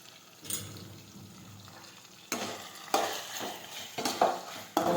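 Okra in a pan is stirred with spices including chutney, cumin and turmeric, making scraping, clattering strokes over a soft sizzle that grows louder partway through, without talk.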